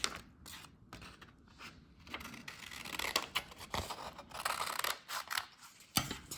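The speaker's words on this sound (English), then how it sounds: "I'm going to take my scissors and I'm going to cut it like a square" Scissors snip through a sheet of folded paper, with quiet, irregular crisp cuts and rustling spread over several seconds, close by and faint, with no talking.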